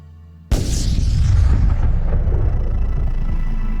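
A sudden deep boom bursts out after a short quiet moment, then rolls into a long, heavy rumbling decay.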